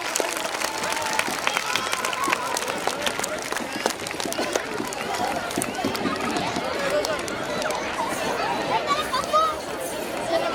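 An audience applauding at an event: a dense, continuous patter of many hands clapping at close range, mixed with crowd chatter and voices throughout.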